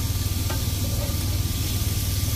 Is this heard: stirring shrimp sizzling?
yes